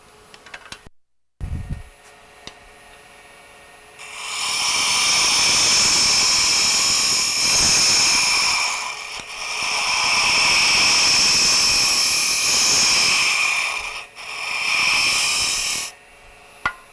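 Loud, harsh whirring of an Easy Wood lathe tool cutting wood in long sustained bursts, with brief pauses between passes.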